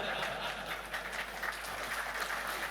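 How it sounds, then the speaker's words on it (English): An audience at a technical forum presentation in New Zealand applauds, a soft, steady patter of many hands clapping throughout, distant and fairly faint. "In New Zealand, we clap for something that's really good."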